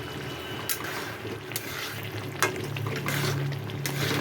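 Curry with added roasted spice powder is stirred in a pan, giving a soft steady sizzle with occasional scraping taps of the spoon and a few brief clinks, close and moderately loud.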